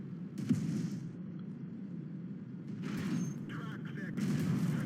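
Tank cannon fire in the World of Tanks video game, including a KV-2's 152 mm gun: a few deep booming shots at a distance, spread over a low rumbling battle ambience.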